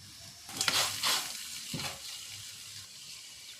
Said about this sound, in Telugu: దొండకాయలు మొత్తం నూనెలో వేయించుకోవాలి